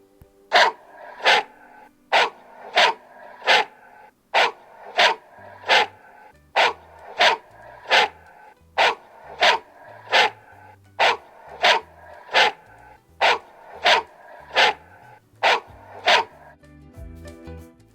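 A dog barks in a long, steady series of loud, evenly spaced single barks, about twenty in a row, close to the listener, with a short break near the middle and no talk.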